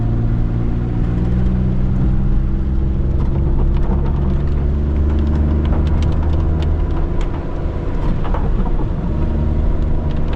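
Small-engine Maruti Alto car driving on the narrow streets of Shimla: a steady, loud engine drone and rumble continuing throughout, with scattered clicks and rattles.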